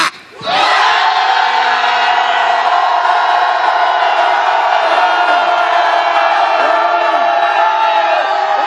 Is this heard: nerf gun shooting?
no